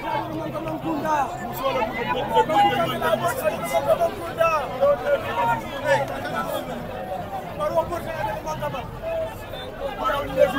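A large crowd in The Gambia chatters and calls out while welcoming a hero, a steady hubbub of many overlapping voices at moderate distance with occasional louder shouts.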